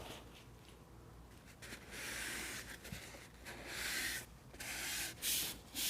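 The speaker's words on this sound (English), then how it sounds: "before we attach the bumpers, we're gonna rub those down with some alcohol" Cloth wiping alcohol along the bed rails of a 2019 Ram 1500 pickup, soft hissing rubbing strokes that swell and fade in repeated passes, fairly close and quiet, no talking.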